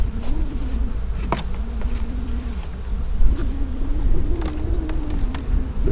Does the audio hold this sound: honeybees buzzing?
yes